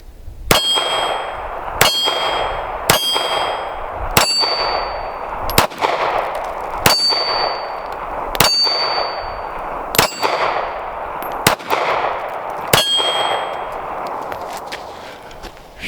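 Ruger LCP Max .380 double-stack pistol firing defensive ammunition at steel targets: about eleven sharp shots at irregular intervals, each followed by a ringing metallic clang, with a low rumbling background between them.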